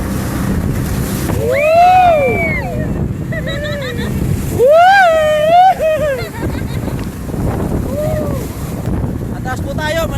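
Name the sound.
strong waves around a boat going to Taal Volcano Island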